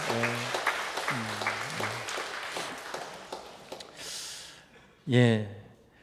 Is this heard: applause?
yes